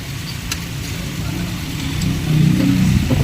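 A car engine runs on its own after starting, even with the battery wire disconnected. A steady close mechanical hum swells slightly louder toward the end, with no talk.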